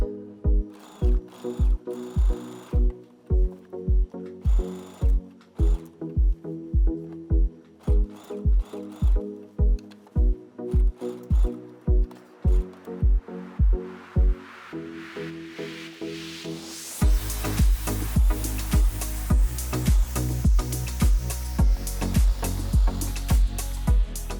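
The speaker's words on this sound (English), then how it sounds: "we're gonna line this up and stitch all the way around" A sewing machine stitches around a tunic seam in short rhythmic bursts of rapid needle thumps, separated by brief pauses, then runs in one long, louder continuous stretch near the end.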